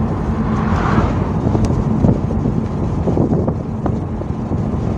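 A Volkswagen Beetle Cabriolet 1.9 TDI drives with its top down and the wind deflector raised. A steady, smooth engine drone mixes with constant wind rumble for the whole stretch, with no voices.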